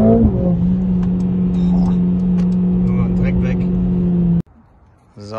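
A Mercedes-AMG car drives and accelerates, its loud, steady engine drone holding strong from close range before cutting off abruptly near the end.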